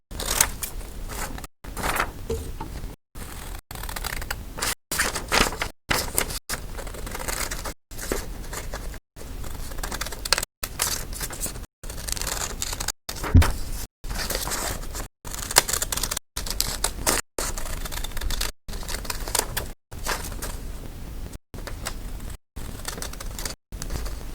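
Scissors cut a paper fish shape in a long run of repeated snips and crisp paper rustles, each cut followed by a short pause. It sounds close up and is mostly free of speech.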